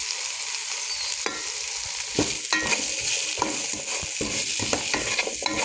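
Rice with onions, turmeric, salt and spices stirred in a hot pan, a steady close sizzle broken by repeated scraping strokes of a spoon, with no talking.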